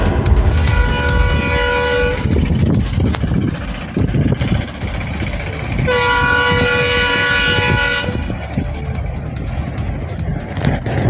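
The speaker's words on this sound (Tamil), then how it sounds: "பாம்பன் புதிய பாலத்தில் 2வது நாளாக 90 கிலோமீட்டர் வேகத்தில் ரயில் இயக்கப்பட்டு சோதனை ஓட்டம் நடைபெற்றது." A train on a trial run at 90 km/h across the new Pamban bridge rumbles loudly and steadily while sounding two long horn blasts, one early and one midway through.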